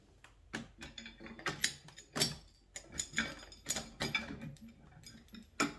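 Metal axle wheels being fitted through the side holes of a YardBird chicken plucker frame, giving close, uneven clanks, ratcheting clicks and creaks in irregular bursts with no voices.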